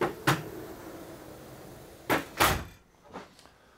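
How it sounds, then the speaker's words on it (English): Sliding galley door on an Outremer 52 catamaran, running along a bar fixed to the galley worktop: a single knock near the start, then two louder clunks in close succession and a fainter rattle as the panel moves and stops, close by. "the door is sliding through the bar"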